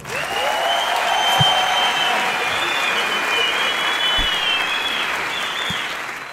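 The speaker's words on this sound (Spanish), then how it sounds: "Es el aplauso más honesto de esta noche para ti." Steady applause from a comedy roast audience at a Colombian show, filling the room evenly for several seconds without breaks or cheering.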